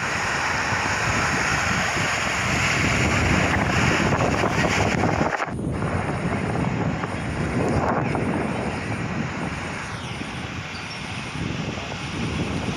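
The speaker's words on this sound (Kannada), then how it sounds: "ಇಲ್ಲಿ ನೋಡ್ರಿ ನೀರು ಹೆಂಗೆ ಜಿಗಿ ಆಗತೈತಿ" River water at the Ghataprabha bird sanctuary leaping and splashing from one bank to the other, heard as a loud, continuous rushing roar with wind buffeting the microphone and one sharp break partway through.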